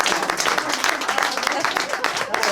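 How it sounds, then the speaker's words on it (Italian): An audience at a Sicilian-language cultural event bursts into dense, continuous applause, many hands clapping loudly and close for a couple of seconds. "Un applauso."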